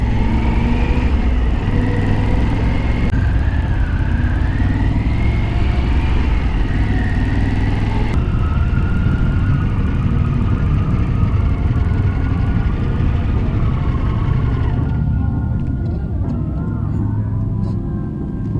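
A Pan America motorcycle's engine drones steadily and loudly while riding, its pitch rising and falling with throttle changes over a constant rush of wind and road noise.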